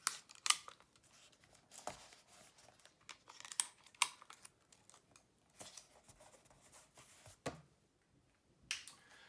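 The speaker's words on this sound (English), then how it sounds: "I'm going to start my journal entry by taping in a photo" Sticky tape is handled close up while a photo is taped into a journal: quiet crinkles, snaps and tearing ticks come in scattered bursts with pauses between.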